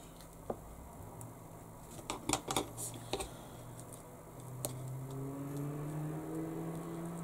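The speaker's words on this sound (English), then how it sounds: "gosh, there's some noisy cars out there tonight." Noisy cars passing outside at night, a low engine rumble swelling toward the end, heard indoors behind scattered close clicks and taps from work at a desk.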